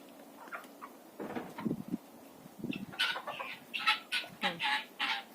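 Guinea fowl on a Ukrainian village farmstead give a run of clucking, chattering calls, starting scattered and low then building into louder, rhythmic bursts near the end, with no one talking.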